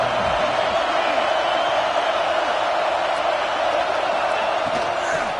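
Loud, steady roar of a stadium crowd at a Georgia college football game, building noise as the home defense faces a red zone stand, with scattered whoops and cheers riding over the continuous wash.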